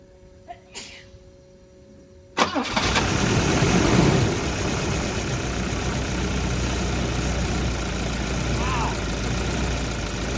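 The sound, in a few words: car engine starting and idling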